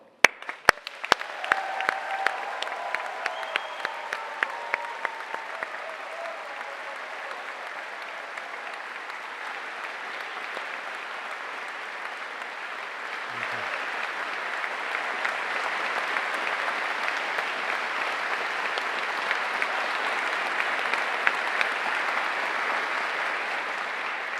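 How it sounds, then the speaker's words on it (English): A large audience at a University of Southampton summer graduation ceremony claps in long, sustained applause, beginning with a few scattered claps, then swelling into a dense, steady roar that lasts over twenty seconds. "Please join me one final round of applause to celebrate all that you've achieved and all that is yet to come."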